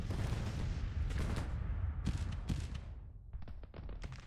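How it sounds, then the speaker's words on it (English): Artillery fire during a Civil War battle game rolls in as repeated booms and cracks, some distant and rumbling, others sharper and closer, in an irregular volley over a low, steady battlefield din. "Instead, we're having an artillery duel."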